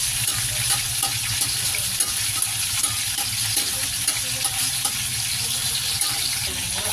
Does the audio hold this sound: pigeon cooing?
no